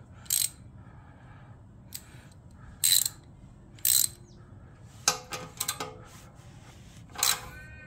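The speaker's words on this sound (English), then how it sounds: "to do that you need a 10 millimeter socket" A ratchet fitted with a 10 mm socket works an exhaust clamp loose on a 2022 MT10 motorcycle, giving short bursts of bright clicking spaced out over several seconds and then a quicker flurry of clicks near the end, all close up with no talk.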